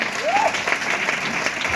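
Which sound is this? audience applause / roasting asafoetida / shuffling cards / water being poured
audience applause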